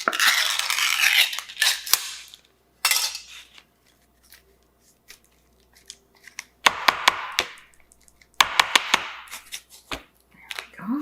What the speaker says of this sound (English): Open our Spam can.